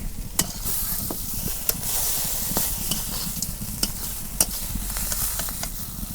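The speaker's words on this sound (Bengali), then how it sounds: "এই নেচটা আমি ভাইজা নিচ্ছি ভালো করে, আর মাছের মাথাটাও নিচ্ছি ভাইজা" Fish pieces and a fish head fry steadily in a pan, a continuous close sizzle with occasional sharp crackles and stirring scrapes throughout.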